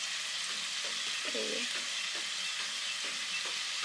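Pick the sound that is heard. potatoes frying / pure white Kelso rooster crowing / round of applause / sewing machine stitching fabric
potatoes frying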